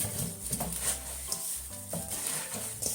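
Salted vegetables for shibazuke pickles being kneaded and squeezed by hand, with moist, squishy rubbing and rustling in an irregular rhythm, close and fairly quiet, with no voices.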